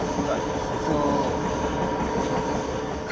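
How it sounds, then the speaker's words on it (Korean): A train running along the banks of the Nile river in Egypt, a steady loud rumble with faint wheel squeal and rail noise, continuous and fairly close throughout. "나일강변을 이렇게 쭉 따라서 기차가 오잖아요"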